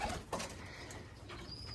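Pigeons in a breeding loft give soft, faint coos amid a low background hum, with a brief flutter and a few scattered calls over under two seconds.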